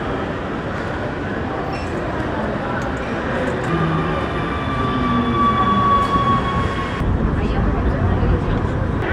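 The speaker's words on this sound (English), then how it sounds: "One of Medellín's most emblematic features is the metro system." Medellín metro train running with a steady rumbling roll and a thin high squeal rising from the wheels, loud and close throughout, with faint voices underneath.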